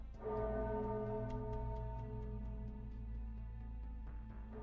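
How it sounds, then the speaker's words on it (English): A deep bell in a video game tolls with a sustained, resonant hum of layered overtones, a faint ticking pulse running through it before a second strike near the end; no talking over it. "A bell tolls."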